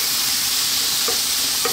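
Bacon and mushrooms with black pepper sizzling loudly and steadily in a pan while being stirred, with a couple of faint utensil scrapes over the constant hiss.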